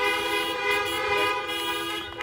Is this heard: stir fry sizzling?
no